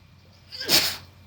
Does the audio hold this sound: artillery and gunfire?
no